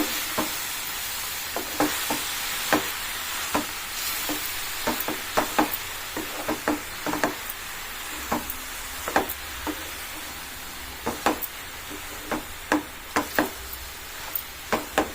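Spatula scrapes and clacks repeatedly against a pan while Rayalaseema-style uggani cooks, the stirring strokes coming in an irregular rhythm over a steady low sizzle, close and clear with no voices.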